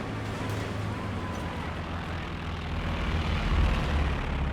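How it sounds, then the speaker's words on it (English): A recon plane flies over in the real-time strategy game Company of Heroes 2, its propeller engine droning steadily and swelling slightly louder as it passes overhead. "In comes a recon plane from Van Scotia"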